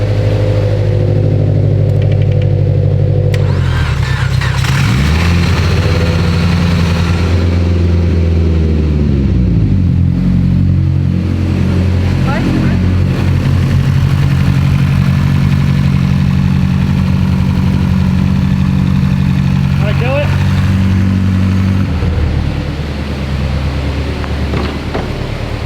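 A car's engine, used to jump-start a blown 800 WHP Mitsubishi Evo X, runs loud and close in a steady idle, with a low rumble that rises and falls in a few revs throughout.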